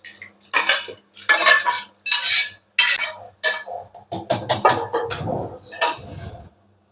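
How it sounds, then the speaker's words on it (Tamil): Tomato puree is pushed through a sieve with a spoon, giving a series of loud, close, rhythmic metallic scrapes in quick bursts that stop just before the end. "இந்த மாதிரி ஒரு ஜல்லடையில் வச்சு நம்ம வடிகட்டிடலாம்."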